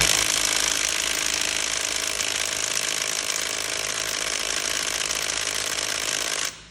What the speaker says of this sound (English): This is the impact driver, not the 1/2 inch, but again, same specs.